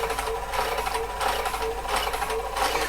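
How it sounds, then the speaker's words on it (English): An HP 9120A printer prints a program listing with dense, continuous mechanical chattering, close and loud. The noise swells in regular bursts about every two-thirds of a second. "we'll now try and print the program listing"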